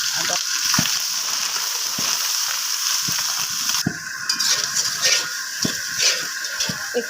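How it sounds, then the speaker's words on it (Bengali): Garlic and ginger frying with browned chopped onions in hot oil, a steady loud sizzle with occasional stirring scrapes and clicks throughout, no talking. "তেলের মধ্যে আমি পেঁয়াজ কুচি দিয়ে দিয়েছি, হালকা ব্রাউন করে ভেজে নিব।"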